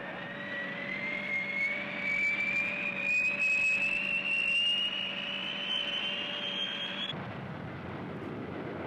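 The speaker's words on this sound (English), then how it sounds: "Also part of this massive strike force is the B-58." A B-58 bomber flies over with a steady, loud jet roar and a high whine that slowly rises in pitch. The sound is continuous and fairly near, then drops to a lower rumble at the end.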